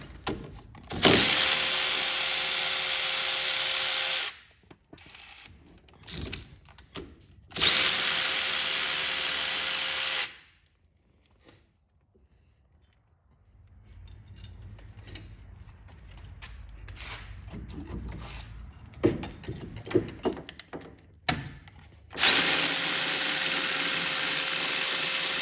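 A ratchet, likely powered, spins out the 15 mm brake caliper bracket bolts on a Chevrolet HHR in long, loud whirring bursts separated by quiet gaps and softer clicking and handling noises.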